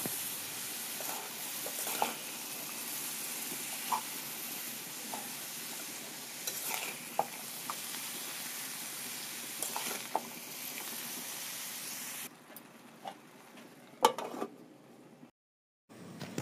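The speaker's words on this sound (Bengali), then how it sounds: "এর মধ্যে দিয়ে দেব কুচি করে রাখা বাঁধাকপিটা দিয়ে এবার সব ভালো মতো একসাথে নাড়িয়ে নেব" Chopped cabbage being stirred with a spice paste in a pan, giving a steady soft sizzle with occasional scraping taps of the spoon that keep going until it cuts out near the end.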